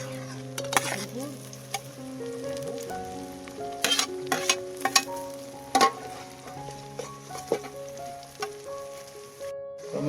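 Onion, green chilli and tomato frying in a pan over a village fire, with a steady sizzle under repeated scraping stirs of a spoon against the pan and occasional sharper clinks; no voices.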